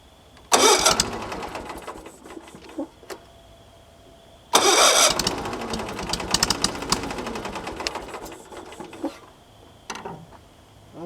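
A big Frick sawmill's engine is cranked twice: a loud rough burst of starting and running for about two seconds, then a longer second attempt that rumbles and sputters for several seconds before dying away, with no talk.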